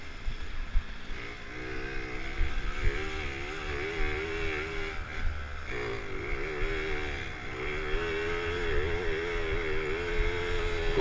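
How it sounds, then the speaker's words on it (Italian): A Garelli Gulp moped engine strains and drones steadily as it climbs a steep, slippery motocross track, the small two-stroke buzz wavering in pitch close to the mic with no talking. "io cerco di spingere il motorino a accelerare perché veramente non andavano su"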